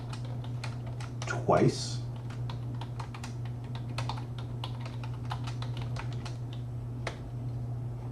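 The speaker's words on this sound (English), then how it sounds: "I'm going to type in a strong password" Fingers type a password on a computer keyboard, producing a quick, uneven run of close, quiet key clicks with a brief spoken word in the middle.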